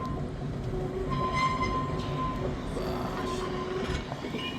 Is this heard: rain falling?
no